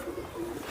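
Pigeon cooing nearby, a short run of soft, low, throaty coos in a gentle pulsing rhythm.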